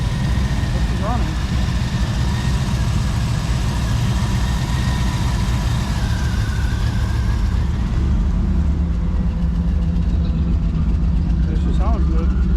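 A third-generation car engine with a Y-pipe and Flowmaster exhaust idles steadily with a deep, throaty exhaust rumble, and people talk faintly nearby.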